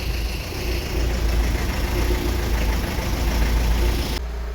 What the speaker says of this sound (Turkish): Egzozun sallantısından motorun teklidini anlayacaksınız